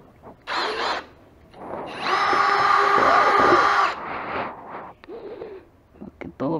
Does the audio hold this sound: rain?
no